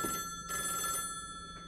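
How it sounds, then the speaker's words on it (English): A telephone bell rings in a classroom in two trilling bursts close by, separated by a short pause, with the start of a third at the end. "Phone is ringing."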